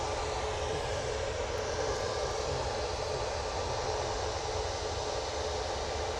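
Airliners departing Manchester Airport in the morning, a continuous broad jet engine roar that stays loud and even with no voices over it.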